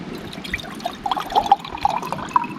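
Water poured at a chilly beach to make espresso, with small splashing trickles and droplet plinks in short irregular bursts, fairly close and soft.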